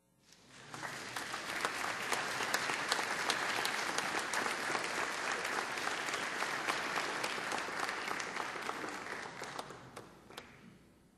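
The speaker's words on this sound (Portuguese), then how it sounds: "Aplausos." A large audience at a formal legislative assembly session honouring a church centenary bursts into applause, swelling quickly into a sustained, even roar of clapping that tapers off at the end.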